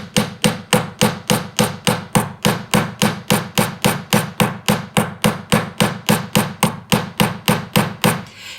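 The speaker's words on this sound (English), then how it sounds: "to receive these hammer blows very well" Steady rhythmic hammer blows texture a wide band metal ring, roughly three strikes per second, each a sharp ringing tap, close and alone with no talk.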